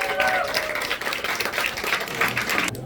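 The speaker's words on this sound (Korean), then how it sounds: "저희 앞에 계신 작가님들께 다시 한번 큰 박수 부탁드리겠습니다" Applause from an audience at the opening of the Gangneung International Art Festival, honoring the artists: a fairly steady wash of hand clapping for about three seconds that cuts off abruptly at the end.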